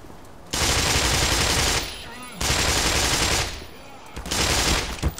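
Enemy gunfire in Black Mesa, three sustained bursts of rapid automatic fire, loud and close, separated by short lulls with faint background game noise.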